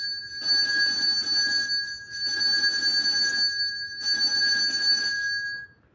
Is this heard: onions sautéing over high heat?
no